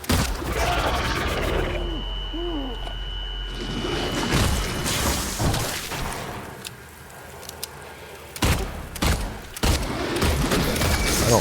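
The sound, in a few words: gunshots at a creature in Silent Hill 2 Remake video game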